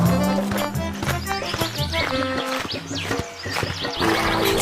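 Horse-drawn carriage moving off, with clip-clop hooves and a horse's neigh mixed into busy background music, fairly loud throughout.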